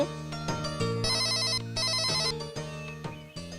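A mobile phone rings in a Telugu movie scene, playing a bright, melodic electronic ringtone that repeats its tune steadily and up close with no voices over it.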